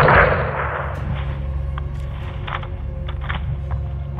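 Gunfire from Call of Duty Modern Warfare 2 opens with a loud close shot, followed by several fainter, sharp scattered cracks over a steady low rumble.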